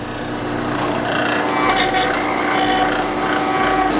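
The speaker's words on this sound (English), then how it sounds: "We're gonna need to countersink all these so that they fit flush and can fit in between the hinge mechanism." A dull countersink bit grinds into holes in metal for a fabricated overland camp table hinge, giving a steady, harsh rasping scrape that runs continuously without pause.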